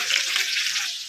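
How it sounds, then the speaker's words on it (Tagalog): Round scad fish fry in hot oil in a pan, giving a steady, fairly loud crackling sizzle with no talk. "Prituhin na natin ang ating mga galunggong"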